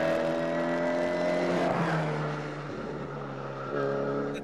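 Historic pre-1968 rally Mini charging along a tarmac rally stage at the Galway International Rally, its engine revving hard and steady up close, dipping briefly mid-pass, then climbing again.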